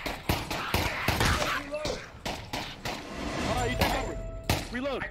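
Rapid gunfire from a VR zombie-survival shooter, Pavlov, crackles in sharp bursts and single cracks across the clip, mixed with excited shouting and talk from players.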